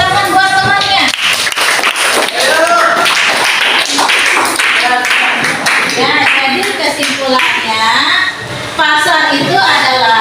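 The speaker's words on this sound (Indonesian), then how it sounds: "Ya, tepuk tangan buat temannya." A class of students claps for a classmate, a dense, sustained burst of many hands close by, with voices mixed in throughout.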